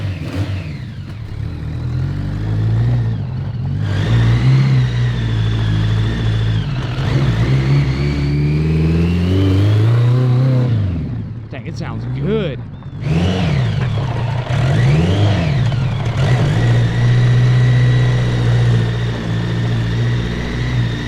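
A 1000cc mini trophy truck engine fires up and revs, loud and close, with repeated rising and falling throttle blips over a steady idle, and voices briefly heard during a lull.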